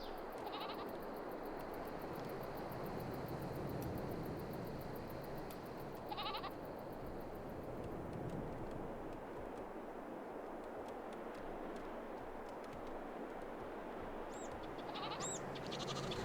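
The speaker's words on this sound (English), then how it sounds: "Let me come over to the sheep." Sheep in Farming Simulator 22 bleat in short, nasal calls, a few scattered over a steady low ambient farm drone, with no talking.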